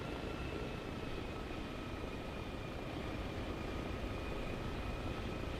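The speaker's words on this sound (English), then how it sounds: "I heard the other chopper" Helicopter flying in the military game Arma Reforger, a steady, unbroken rotor and engine drone at constant loudness, with no voices.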